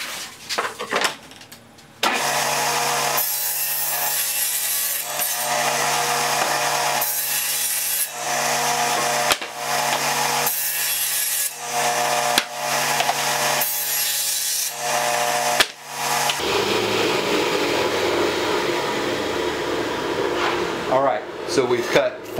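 A table saw rips plywood strips along a fence, long steady whining cuts repeated in bursts with brief pauses between, loud and close.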